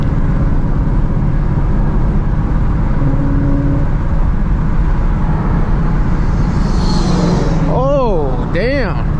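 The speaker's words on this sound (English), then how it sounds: "That was either S197 GT or GT500 twin turbo." A Ford Mustang, an S197 GT or a GT500 twin turbo, passes at night. Its engine roar blends into loud, constant road and cabin noise heard from inside a moving car, with brief voices near the end.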